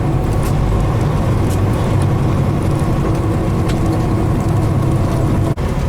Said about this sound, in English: And now we're going to do a split downshift.